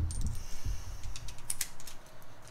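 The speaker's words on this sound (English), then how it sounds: "let's torque it up to 10 foot-pounds here" Torque wrench tightening rocker arm bolts on a motorcycle engine during an S&S oil line kit install, giving a few close, dry ratcheting clicks and small metallic taps amid light handling noise.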